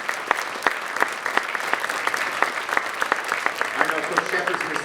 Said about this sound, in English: Our current team is here today. We give them a round of applause.